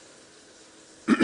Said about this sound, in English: I'm clearing my throat all the time